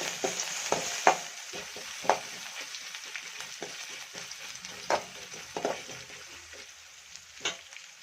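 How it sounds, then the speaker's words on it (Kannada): Dried red chillies with crushed ginger and garlic fry in ghee under a faint sizzle, punctuated by sharp, irregular scrapes and clinks of a spoon stirring the pan. "ಈಗ ಮತ್ತೆ ಒಂದ್ಸತಿ ಫ್ರೈ ಮಾಡ್ಕೊಳ್ಳೋಣ"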